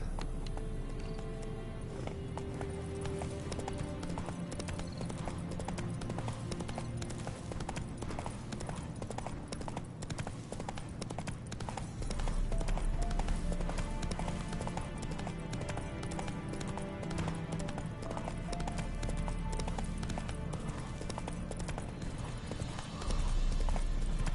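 Roach the horse trotting in The Witcher 3, a steady rhythmic clip-clop of hooves running continuously and close, with faint game ambience and music beneath.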